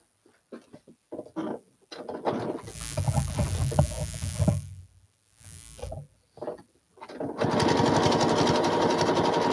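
A freshly tuned sewing machine runs a zigzag stitch on a mountain lake landscape piece, in several short bursts and then a steadier final run that stops and starts close by.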